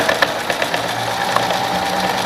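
A sewing machine runs steadily, stitching fabric for a small plastic-pocketed sanitary-pad case, its rapid even needle clatter close and constant throughout with small mechanical ticks.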